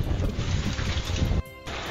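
A hailstorm with strong wind in Tasikmalaya, a loud, steady roar of wind and pelting hail that drops suddenly and then resumes more quietly, with no voices.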